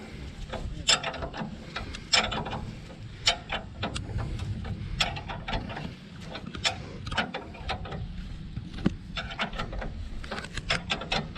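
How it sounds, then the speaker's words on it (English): A spanner ratchets in repeated short clicks and metallic ticks while tightening the cylinder on a scarifier, close up and moderately quiet, irregular bursts of clicking over a low background hum, with no talk. "you basically just use a spanner just to make sure that that's nice and tight"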